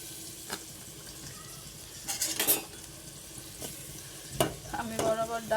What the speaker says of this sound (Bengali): ডালটা বাগার দেবো।